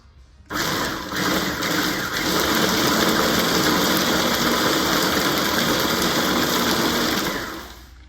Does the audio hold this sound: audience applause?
no